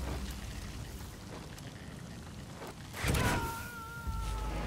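Steady rain falls in Metal Gear Solid V, a dense hiss of patter holding throughout. Near the end a brief whooshing swell comes with faint rising tones.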